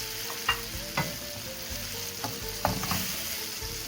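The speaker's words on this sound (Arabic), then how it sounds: "هلا بنحرك." A spoon scrapes and taps in a pan as smoked fava beans are stirred with onion, garlic and pepper. Several distinct knocks ring out over a steady frying sizzle, with no talking.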